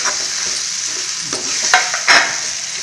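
Potatoes and peas frying in oil over a medium flame for a green-pea nimona, giving a steady bright sizzle with a few scraping stirs of a spoon against the pan.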